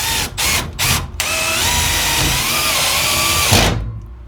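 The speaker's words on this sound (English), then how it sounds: "I'm putting screws in so the wood doesn't move around when I put my stuff up" A power drill drives screws into a wooden storage-box shelf: three short bursts of whirring at the start, then one long, steady, close, loud run that stops abruptly near the end. No one speaks.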